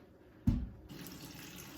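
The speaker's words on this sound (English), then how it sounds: "And as I'm dumping it, the water is super dirty." Dirty rinse water from soaking sea moss is dumped out, a sudden splash followed by trickling and steady draining at moderate volume, with no voices.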